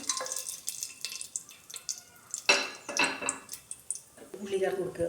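Whole cinnamon, cloves and cardamom drop into hot ghee in a pan for egg fried rice, giving scattered crackles and clinks of utensils against the pan, with a voice talking over it.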